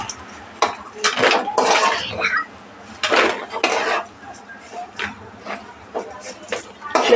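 Fried bitter gourd is scraped from a pan onto a plate with a metal spoon, giving close, uneven clinks and scrapes in short clusters between quieter pauses.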